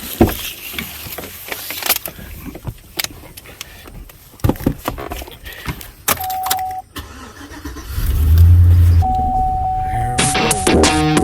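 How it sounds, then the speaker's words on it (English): A small rally car drives on a homemade dirt rallycross and kart track. Its engine buzzes and revs in uneven bursts, with rattling and clunks, then swells into a louder, steady drone toward the end. "jumping in the little rally car right now, and we're going for it."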